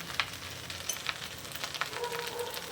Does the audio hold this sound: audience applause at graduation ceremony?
no